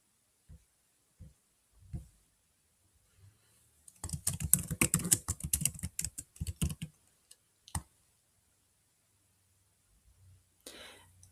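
Typing on a computer keyboard while entering a teacher's name and number into a student dashboard spreadsheet: a few isolated keystrokes, then a dense burst of rapid clicking for about three seconds, followed by single taps, close and clear with no talk.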